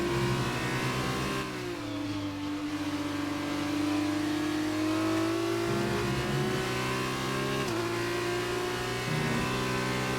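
An F2 race car engine in the F1 2019 video game at Austria, sustained and loud, revving through gear changes with pitch drops and climbs, with no talking over it.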